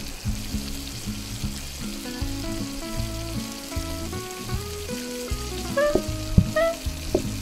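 Food sizzles and fries in a PlateUp! video game kitchen alongside a pot of boiling water, a steady crackling bed broken by short plinking kitchen sound effects, with a few sharper clicks near the end.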